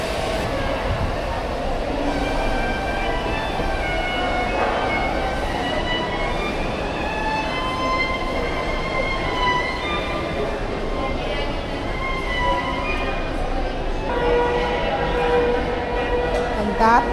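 Busy station hall at Keleti railway station in Budapest, with a steady rumble of trains and rail activity, tonal squeals and announcements blending into a loud, continuous crowd din with talk throughout.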